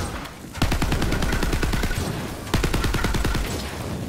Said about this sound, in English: And we're just shooting from the hip here.